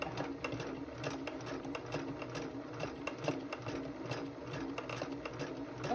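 A sewing machine stitches a seam in fabric, running steadily and close with a dense, rapid mechanical chatter that carries on without a break, and no one speaks.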